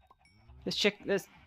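A cow in Minecraft being hurt lets out two short, close, strained moos in quick succession, loud against a quiet background.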